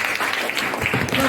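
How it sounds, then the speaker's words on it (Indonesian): An audience at a leadership seminar applauds, a dense wash of hand clapping heard close and continuous for a moment. "Tepuk tangan untuk kita semua."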